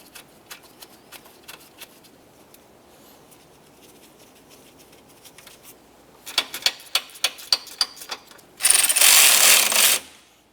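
A ratchet snugging small 10mm-headed compressor mounting bolts on a 2006-2011 Honda Civic, first as faint scattered ticks, then a run of loud close clicks, ending in a dense burst of rapid ratcheting.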